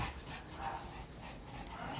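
Pomeranian dog making soft whimpering and yipping sounds close by, with continuous low background noise and no talking.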